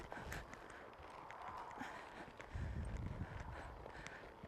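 A roan mare trots in a straight line, her hooves giving a soft, steady clip-clop on the ground at a moderate distance, faint and unbroken with no voices over it.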